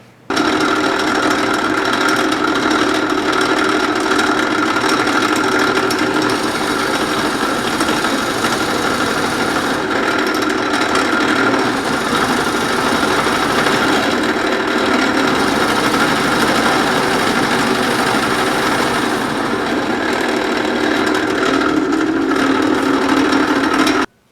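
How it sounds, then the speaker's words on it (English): A drill press whirs steadily at close range, its motor droning loud and unbroken while the bit grinds through wood, boring a mortise in a bar stool leg. "I will first set up the drill press and we will bore a mortise in the corner of each leg."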